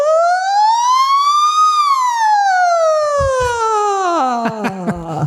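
A human voice imitates a police siren, a clean sung tone rising then sliding slowly downward, loud and close, with a few soft clicks and brief noises near the end.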